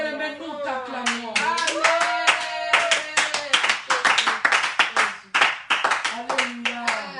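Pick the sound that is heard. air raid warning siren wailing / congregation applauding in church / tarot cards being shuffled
congregation applauding in church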